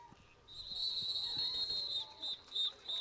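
A referee's whistle sounds near the end of a play in a Canada Cup high school football game between New Brunswick and Manitoba, with a long shrill blast followed by three short sharp toots over stadium crowd noise.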